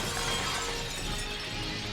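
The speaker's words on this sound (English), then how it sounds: "The Gobbler hears the sound of breaking glass" A glass window shatters in a broad, noisy crash that fills the whole moment, a dense burst of breaking sound with no voices over it.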